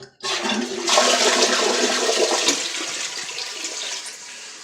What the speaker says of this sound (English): So we'll give it a flush.